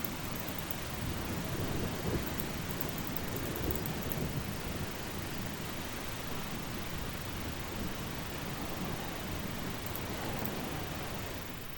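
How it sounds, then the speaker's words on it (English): Heavy rain and a rumbling thunderstorm in the video game Eastshade, a dense steady roar of downpour with low thunder rolling underneath, continuous and loud throughout with no voices. "It's too stormy to leave, of course."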